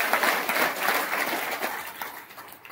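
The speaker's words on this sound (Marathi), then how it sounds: "जोरदार टाळी वाजवा." Loud, steady applause from a crowd at a religious gathering during a Shravan month observance, continuous clapping that swells and gradually fades over a few seconds with no voices.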